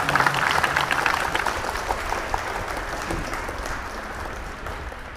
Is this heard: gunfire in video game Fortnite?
no